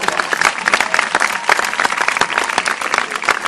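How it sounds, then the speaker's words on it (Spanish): A burst of applause from a small audience, loud and close, with quick uneven clapping that holds steady for a few seconds. "Aplausos"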